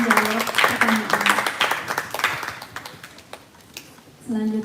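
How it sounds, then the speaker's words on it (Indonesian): An indoor audience gives a round of applause for four panel speakers at an event. Dense clapping fills the first few seconds, then thins out and fades, and a voice starts speaking over the tail end. "berikan tepuk tangan yang meriah kepada keempat narasumber kita yang telah menjawab pertanyaan"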